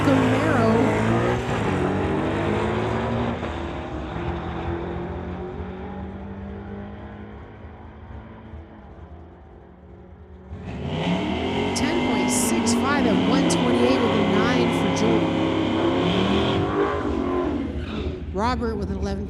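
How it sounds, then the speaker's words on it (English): At a street-legal drag race, a 1971 Pontiac lines up against a 2018 Camaro. Engines rumble under steady commentary, then a loud surge of roaring power swells midway and holds strong. "the Zapstrap Racing Jerry's OK Tire 71 Pontiac, driven by Joel Smith, going against Robert McLean in the 2018 Camaro"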